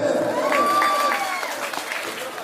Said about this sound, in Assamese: এটা হাত চাপৰি লাগে